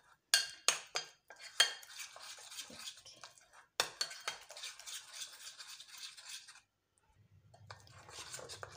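A spoon scrapes and clinks against a bowl while spice mix is stirred into pieces of fish for a fish fry, producing repeated loud knocks followed by quicker scraping, then a short pause and a low hum.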